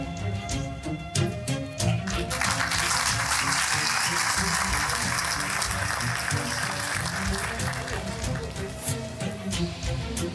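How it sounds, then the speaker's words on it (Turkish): An audience at a short film competition awards night applauds, with sustained, full clapping throughout and some faint talk mixed in. "Alkışlarınızla efendim"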